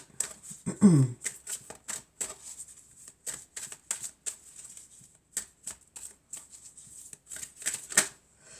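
Tarot cards shuffled by hand at close range, a long run of crisp papery riffles and slaps in irregular bursts, with a brief voiced sound near the start.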